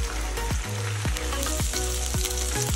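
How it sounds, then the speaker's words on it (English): Mushrooms and chicken sear in oiled pans over high heat, giving a steady loud sizzle with several sharp spatter bursts and stirring clatter, with no talking. "Dump in the mushrooms and start searing the chicken."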